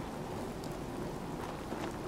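Steady rain pours down in Fallout 4, a continuous dense hiss of drops on surfaces with no pauses and no voices, filling the whole moment evenly.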